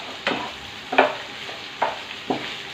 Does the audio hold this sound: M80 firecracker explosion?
no